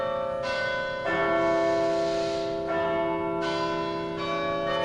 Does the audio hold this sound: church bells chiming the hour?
yes